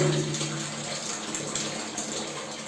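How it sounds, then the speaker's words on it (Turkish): Water rushes steadily from an opened valve on a home radiator during flushing of a central heating system, a continuous close gushing with no talking. "Peteği açtığımız zaman su çıkacak."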